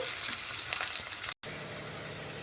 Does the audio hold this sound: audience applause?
no